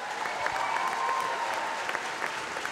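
Sustained applause from a swimming championship crowd at Ponds Forge, a dense, even wash of clapping that carries on steadily, with a few faint voices in it.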